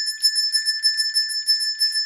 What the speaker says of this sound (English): With the ring of a bell